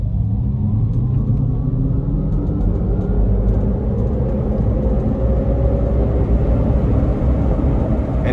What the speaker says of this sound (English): I'm just gonna come up here and just nail it.